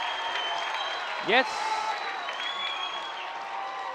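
High school football crowd at a North Mason at Shelton game, cheering steadily in the distance under an announcer's voice, with one short louder vocal swell in the middle.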